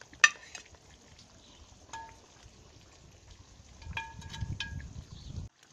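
Soft vegetables such as baby marrow, broccoli and pattypans are stirred in a cast-iron potjie pot for a South African potjie, with a spoon clinking against the metal and a low scraping, sizzling rustle building toward the end.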